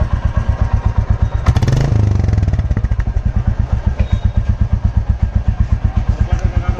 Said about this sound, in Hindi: थोड़ा सा भारी हुआ है एग्जॉस्ट नोट